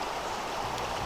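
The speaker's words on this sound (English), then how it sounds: "enjoyed the sound of the river running through it" A river runs along a Carolina roadside off Highway 80, a faint, even watery rush with no other sounds over a brief moment.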